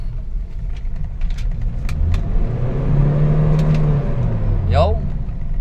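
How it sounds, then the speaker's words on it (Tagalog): A Hyundai Starex van with a low-power fault revs up, its engine climbing to a loud rising roar and then easing off, close by, with people talking. "I-try natin i-accelerate."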